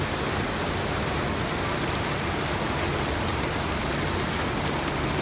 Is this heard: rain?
yes